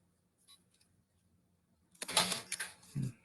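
A deck of cards being shuffled during a live angel message card reading, a near, dense burst of riffling clatter after a quiet stretch, ending in a softer thump.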